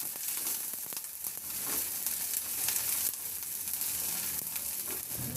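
Onion dropped into hot oil with garlic in a kawali sends up a loud, dense, unbroken sizzle, close and steady throughout.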